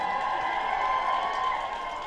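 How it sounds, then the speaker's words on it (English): Studio audience at a live podcast recording, a steady wash of applause and cheering held at even loudness throughout, with no single voice standing out. "Can I hear a big cheer in the audience?"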